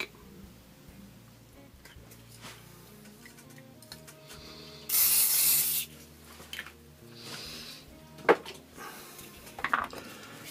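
WD-40 sprays onto a Mora knife blade in one loud, hissing burst lasting about a second, followed by faint rubbing and light metallic taps in a quiet room.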